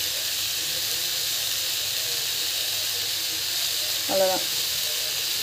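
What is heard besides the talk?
steam hissing from a cooking pan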